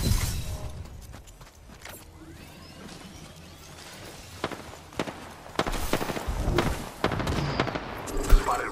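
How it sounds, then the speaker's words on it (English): Rapid gunfire from an Apex Legends battle royale match crackles in repeated bursts, sparse at first and then growing denser and louder toward the end, with sharp close shots cutting through distant firing. "They're shooting. Firing."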